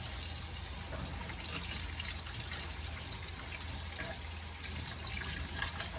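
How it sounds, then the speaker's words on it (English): Water from a tap runs steadily over fish being rinsed in a soft, continuous splashing rush, close by and fairly quiet, with no voices. "I'm just gonna run some water on top of it."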